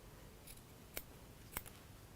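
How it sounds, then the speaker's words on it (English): Two crisp snips of micro stitch scissors cutting into a fabric seam, sharp isolated clicks about half a second apart over a quiet room background. "go with the micro stitch scissors because they have the perfect tips"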